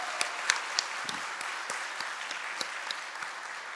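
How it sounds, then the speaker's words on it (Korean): A church congregation at Sunday worship applauds to welcome a new education minister, a soft, distant wash of many hands clapping, with a few sharper claps standing out. "박수로 환영하시며 격려하겠습니다"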